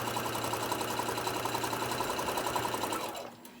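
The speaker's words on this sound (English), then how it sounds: "let me just jump on over here really fast and just stitch the seam on this one to hold that together" A sewing machine stitching a seam on a small zipper pouch, running in a fast steady mechanical whir with rapid rhythmic needle chatter, close and continuous, then slowing and stopping at the end.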